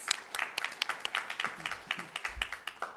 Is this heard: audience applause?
yes